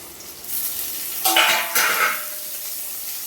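Tomatoes frying with half-cooked onions in a pan for a flattened-rice snack, a steady close sizzle with two bursts of stirring scrapes in the middle.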